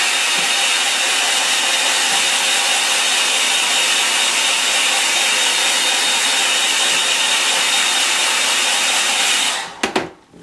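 A hair dryer blows in a steady loud whoosh, drying watercolour paint, running continuously for nearly ten seconds before being switched off with a brief clatter.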